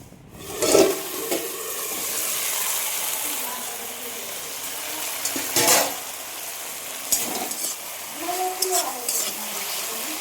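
Potatoes and singara sizzling together in a pan in a home kitchen, a steady close frying hiss with occasional stirring scrapes and soft clinks.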